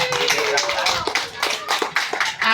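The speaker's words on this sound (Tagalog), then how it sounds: "Itong palakpak natin kay Kapitan." Lively applause from a crowd at a golden wedding anniversary celebration, with rapid overlapping claps and voices mixed in, fairly close and sustained.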